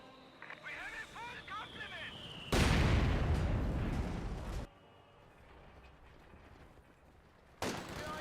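Mortar shells burst in Company of Heroes 2, a loud rumbling explosion lasting about two seconds, then a quieter stretch of distant battle noise and a second sharp blast at the end.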